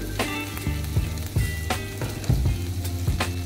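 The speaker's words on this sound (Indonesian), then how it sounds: "Oke, kemudian ini ditumis lagi." Bell peppers being stir-fried in a pan sizzle and crackle continuously, with a few sharp scraping stirs of the spatula standing out close and clear.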